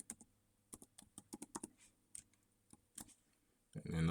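A password is tapped out on a computer keyboard in quick, irregular bursts of close, crisp key clicks, a short pause, then a few more keystrokes before a louder rustling noise at the end.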